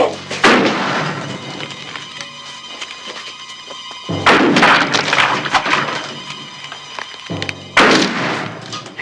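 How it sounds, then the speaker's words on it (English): Heavy gunfire strikes a building in a film scene, coming as three loud, close bursts of cracking shots and impacts with short gaps between them. "One of them shots are bound to hit somebody."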